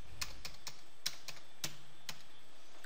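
A postal code being keyed into clinic software on a computer keyboard: about eight crisp, close key taps in an uneven rhythm, alone with no voice.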